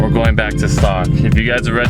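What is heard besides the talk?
None of the usual background noises is heard.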